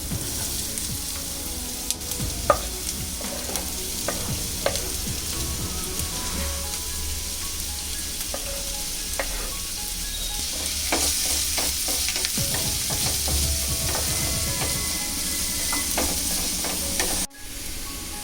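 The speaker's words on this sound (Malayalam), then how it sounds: "ജീരകം ഒന്ന് മൂത്ത് വരുന്ന സമയത്ത് നമുക്ക് അരിഞ്ഞു വെച്ചിരിക്കുന്ന സവാള അതിലേക്ക് ചേർക്കാം." Chopped onion and cumin sautéing in hot ghee for paneer bhurji, a steady close sizzle and crackle with intermittent stirring scrapes and taps of a spoon against the pan throughout.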